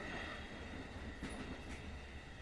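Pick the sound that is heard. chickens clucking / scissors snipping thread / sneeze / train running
train running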